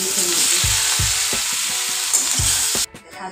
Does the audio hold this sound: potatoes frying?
yes